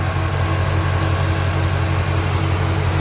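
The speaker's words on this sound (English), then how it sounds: "The engine sounds good." A 2018 Shelby GT350 engine idles with a steady, even rumble and a low hum that holds throughout, close up and with no one speaking.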